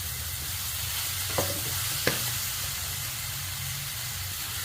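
Spices, garam masala and tomatoes sizzle and fry steadily in a pan, with a couple of soft stirring clacks partway through; continuous and close.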